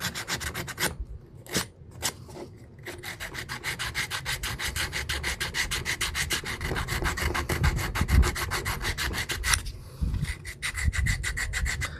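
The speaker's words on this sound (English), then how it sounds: "I'm going to take I think this is 80 grit sandpaper" Coarse 80 grit sandpaper rubbing against a piece of knapped flint, a steady scratchy back-and-forth sanding with short pauses early on, close and loud with no talking.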